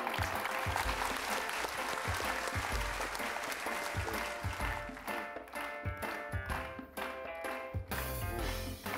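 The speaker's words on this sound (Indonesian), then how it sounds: "tepuk tangan buat Atala luar biasa." Studio audience on a children's TV show applauding yoyo performer Atala, dense clapping mixed with music and ringing tones, dropping in intensity midway and then swelling again.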